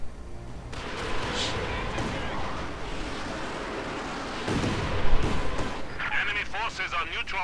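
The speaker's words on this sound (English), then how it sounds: "Lots of rockets." A video game rocket artillery barrage on a World War II battlefield produces a dense, continuous rumble of booming impacts, with a louder blast near the end and someone talking over the noise.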